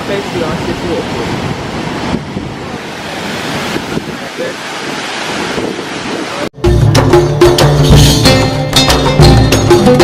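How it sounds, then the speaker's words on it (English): A waterfall in Morocco, heard from very close, fills the first six seconds with a steady, loud rushing roar before an abrupt cut to louder music-like sound. "Look how close we are to this waterfall."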